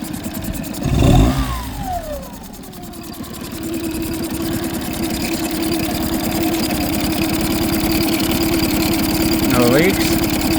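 An engine runs on a test after its injectors are cleaned and replaced, holding a steady idle-like drone after a brief revving swell near the start, with faint voices talking over it.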